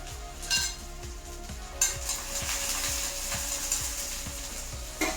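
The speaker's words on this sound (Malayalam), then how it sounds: "ഉള്ളി ഒന്നും ഇങ്ങോട്ട് മൂത്ത് വരട്ടെ." Small onions sizzling in hot coconut oil for a dried prawn curry, with a steady bright frying hiss and regular scraping stirs of a spoon against the pan.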